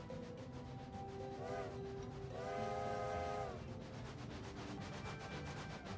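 A video-game train rumbles along steadily while its horn sounds in two blasts, a short one and then a longer, louder one, over continuous running noise.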